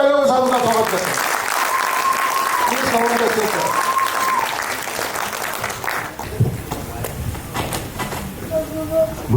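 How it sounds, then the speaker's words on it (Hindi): Applause from a seminar audience in Mumbai welcoming a presenter on stage, a steady wash of clapping under an amplified voice with sustained tones over it. Halfway through the talk drops away and the clapping thins into scattered, uneven claps. "जोरदार तालियों के साथ उनका स्वागत करते हैं"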